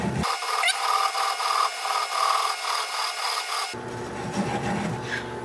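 A gouge cuts a wooden root ball spinning on a lathe at about 200 RPM, making a scraping, rasping hiss with rhythmic pulses, then an abrupt shift to a duller, lower rubbing sound near the end.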